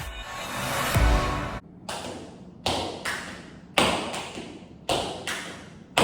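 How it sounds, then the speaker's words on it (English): Tap shoes striking a floor in short dance bursts: a scuffing run, then a string of sharp separate taps with ringing decay between them, close and clear, no talking. "Tap dance today."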